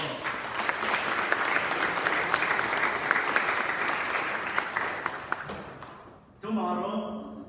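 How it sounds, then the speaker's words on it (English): A church congregation at Our Lady of Mt. Carmel in Nutley, New Jersey applauds during Sunday Mass, sustained dense clapping filling the room that tapers off before a voice begins speaking. "Please give him a hand of applause."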